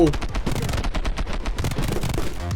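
Rapid, sustained machine-gun fire in the video game My Friend Pedro: Ripe for Revenge, loud and continuous with dense bursts of shots throughout.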